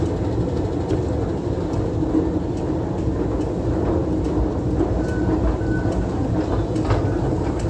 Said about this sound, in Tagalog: Train is arriving.